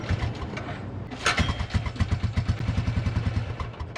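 Arctic Cat 300 4x4 ATV engine idling low and close, with a rapid, even chugging pulse and mechanical clatter; a brief louder burst comes just after one second.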